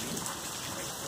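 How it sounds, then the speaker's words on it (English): Steady, dense hiss of heavy rain pouring down during a thunderstorm, broadband and continuous over the short stretch, with no distinct thunderclap standing out and no voices. "You hear that? That's the thunder!"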